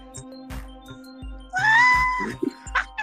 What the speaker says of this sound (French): et en plus j'ai un chat, tu vois.